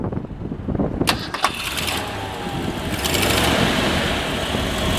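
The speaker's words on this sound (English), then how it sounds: "we'll go ahead and fire this one up for you" A 1965 Lincoln Continental's 430 V8 cranks over, catches and settles into a smooth, steady idle, fairly loud and close, with no talk over it.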